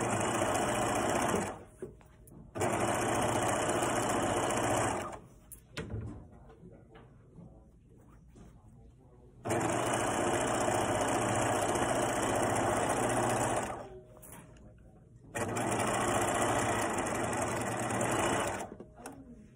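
A sewing machine stitching the center back seam of a gathered skirt with a half-inch seam, in three long steady runs of fast, close mechanical whirring separated by short pauses with small handling noises.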